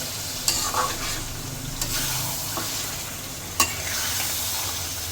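Meat being sautéed (kashano) in a covered pan for biryani sizzles steadily, and a few sharp clinks of a stirring spoon against the metal break through.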